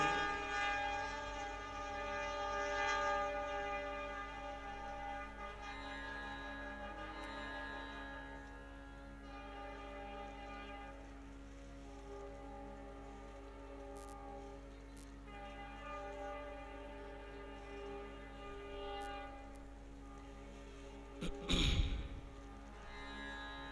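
A long, sustained train horn blares over a steady rumble, swelling and easing in loudness for the whole stretch, with a brief clatter near the end.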